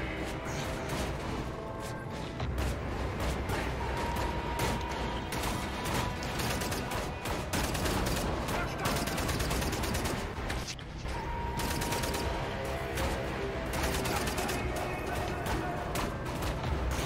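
Sustained gunfire in the first-person shooter Wolfenstein: The New Order, loud continuous shooting with crashes and mechanical clatter mixed in, and a voice faintly present underneath.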